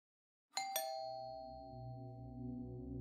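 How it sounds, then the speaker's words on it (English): A doorbell at the front door of a house rings with two bright, struck chime tones in quick succession, their ring decaying slowly under a low steady hum; no one speaks. "walked up to the door of Alexia's parents' house and rang the doorbell"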